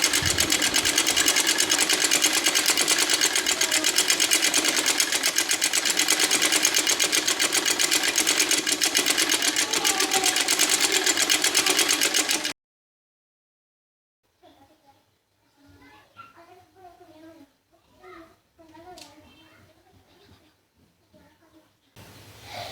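An electric sewing machine stitching a two-year-old girl's frock runs loud and steady for about twelve seconds, then stops abruptly, followed by someone speaking quietly.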